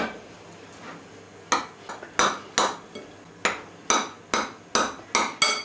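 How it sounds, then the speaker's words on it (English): Broken trifle sponges are tipped into a serving bowl, giving a run of sharp clinks and knocks against the bowl, sparse at first and then a quicker series of taps, fairly close with no talking. "I'm going to tip that into my bowl. This is my serving bowl."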